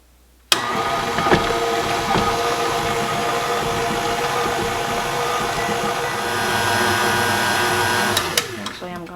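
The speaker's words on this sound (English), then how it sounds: "And we're going to let this mix for 4 minutes." An electric mixer beats cake batter for an Appalachian church dessert, a steady loud motor whir that starts abruptly and runs continuously for several seconds before cutting off near the end.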